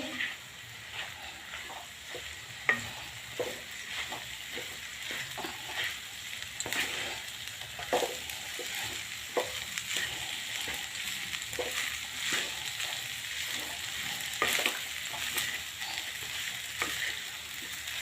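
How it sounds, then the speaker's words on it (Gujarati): A winter special rice dish with green garlic and fresh peas frying in a pan over full heat, with steady close sizzling throughout and repeated scraping stirs of a spoon against the pan, and no talk. "મિક્સ કરી લઉં છું ગેસ ફૂલ કરી દેવાનું છે"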